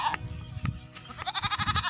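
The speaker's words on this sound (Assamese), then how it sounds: "এইটো ছাগলীটো।" A mother goat on a Darrang farm in Assam, recently delivered of three kids, bleats in a few loud, close, wavering cries, with the last run breaking into a quick pulsing bleat.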